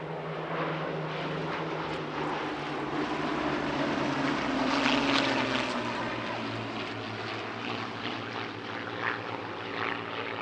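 A Gloster Gladiator biplane fighter flies past at a family airshow, its propeller engine droning steadily and swelling slightly mid-pass, with a faint pitch shift as it moves overhead.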